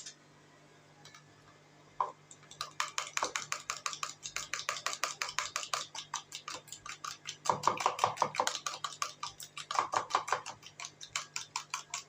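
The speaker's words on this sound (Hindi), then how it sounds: "1 अंडा हम इसमें फेंट देंगे। इसको अब हम मिक्स कर देंगे।" Batter for ras malai balls made with milk powder and an egg is mixed briskly in a bowl, producing a fast, steady run of close tapping clicks from the utensil against the bowl.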